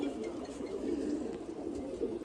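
Male pigeons kept by a breeder cooing, low rolling coos repeating softly and close, with faint background murmur.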